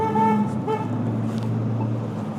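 Car horns honk from passing traffic, with two short toots followed by a longer sustained blare over a steady low road rumble, fairly close and loud.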